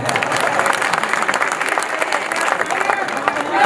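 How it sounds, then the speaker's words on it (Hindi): An audience at a ghazal and poetry recital breaks into applause after a poem ends: a thick, sustained wash of many hands clapping together, loud and even, with crowd murmur underneath. "आप ताली बजा सकते हैं।"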